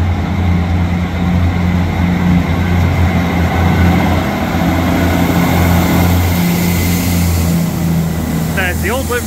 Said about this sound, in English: here it is, East Midlands Railway to Liverpool Lime Street